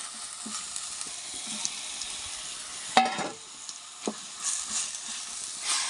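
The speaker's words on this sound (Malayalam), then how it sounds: "മസാലയൊക്കെ ഇട്ട് നല്ലോണം ഇളക്കി കൊടുക്കുക" Chicken curry masala sizzling in a frying pan, a continuous soft fry hiss broken by a few sharp scrapes and knocks of a spoon stirring, close and with no talking.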